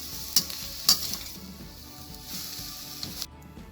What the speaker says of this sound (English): Keep sauteing the onions until it becomes golden brown.